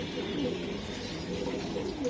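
Racing pigeons cooing softly in a loft, low murmuring calls repeating over steady background noise at close to moderate distance.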